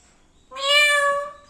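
A pet parrot imitates a cat's meow, producing one clear, close, drawn-out mew that rises and fades after a brief quiet start.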